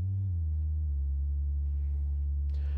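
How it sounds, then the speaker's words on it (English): Plain sine wave from a synthesizer module, a steady pure electronic tone held continuously, with its pitch dropping once early on and a brief burst of noisy texture near the end. "So, we're listening to our plain sine wave again."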